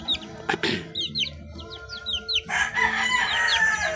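One-month-old baby chicks peep in quick high chirps close by, a loose flock calling over a soft low background that grows busier halfway through.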